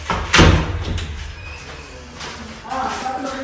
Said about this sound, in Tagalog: yung pintuan natin dito sa room nila Kuya Arnel at ito yung sa akin